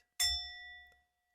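A single bright chime rings out once during a quiet guided relaxation, its clear metallic tone sustaining and slowly fading over about a second in silence.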